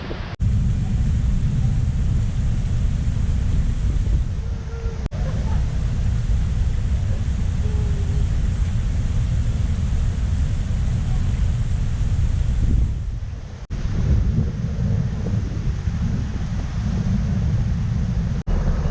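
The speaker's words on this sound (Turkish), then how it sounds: "Yağmurda takılı kaldık." Heavy, persistent rain in Taiwan, heard as a dense, steady roar of downpour that stays loud and unbroken, with only a brief dip, and no voices over it.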